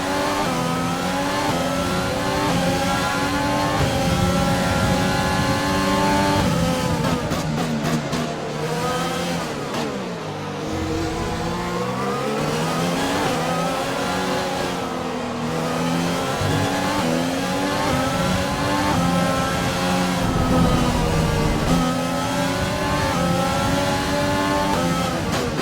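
Formula 1 race cars scream through gear changes in F1 2020 on a final lap, high-pitched engines rising and falling continuously and loudly as the car accelerates and brakes, with no talking.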